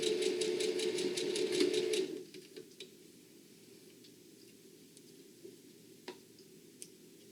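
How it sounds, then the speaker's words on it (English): A sewing machine stitching a bag runs with a fast, even mechanical chatter for about two seconds, then stops, leaving faint clicks and handling taps in a quiet room. "I'm going to take this over to my machine here. And I'm going to sew from this side down."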